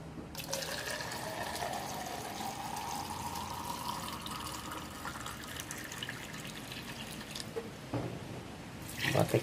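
Half a litre of water poured onto sugar to make a syrup, a continuous close splashing pour that runs steadily for several seconds before ending.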